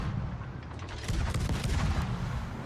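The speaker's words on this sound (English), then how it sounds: "Hey, torpedo hit." A torpedo hit in the naval battle game World of Warships, heard as a dense burst of booming, gunfire-like impacts that rises in loudness partway through and rumbles steadily to the end, with no talking.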